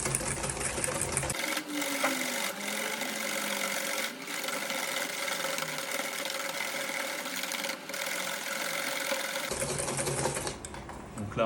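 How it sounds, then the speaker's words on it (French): A whisk beats a chocolate ganache dessert mixture in a steady, fast, even rhythm, making a continuous mechanical whir that stops abruptly near the end. "on va venir tout simplement fouetter jusqu'à ce que le mélange blanchisse"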